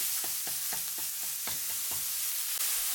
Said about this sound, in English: Stir for 3 minutes, separating the small pieces.